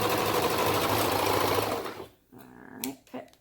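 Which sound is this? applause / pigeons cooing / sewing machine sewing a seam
sewing machine sewing a seam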